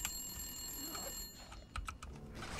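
A telephone rings somewhere inside the survival game The Long Dark, its bright repeated bell tones sounding for about two seconds before fading out.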